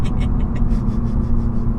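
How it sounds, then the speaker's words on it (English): A 2015 Seat Leon Cupra 280 ST estate spinning its wheels under hard acceleration, a loud close engine roar with pulsing tyre noise over a deep rumble, brief and without speech. "Damn, that's a lot of wheel spin."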